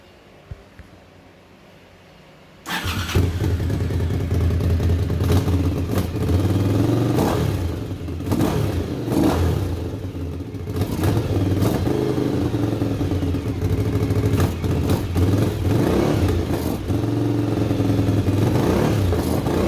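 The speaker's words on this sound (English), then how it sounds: "she's been firing up pretty good, so we're gonna give her a little rip here" A 1998 Suzuki TL1000R motorcycle, revived after sitting for 15 years, starts up and idles loudly close by, with repeated revs and throttle blips over a rough, clattery running engine.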